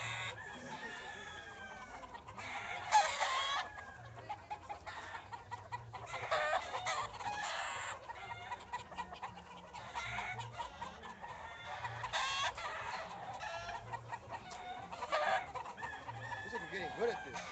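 Chickens and roosters at a poultry show cluck and crow repeatedly, several drawn-out crows rising at intervals over a steady bed of clucking, moderately distant and fairly faint with a murmur of room noise.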